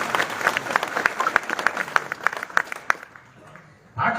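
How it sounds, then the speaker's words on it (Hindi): Audience at a Hanuman devotional gathering claps in a scattered, sharp burst for about three seconds, moderately loud, then it fades to near silence before a voice cuts in at the end. "एक बार हनुमान जी के लिए जरा ताली बजा दीजिए।"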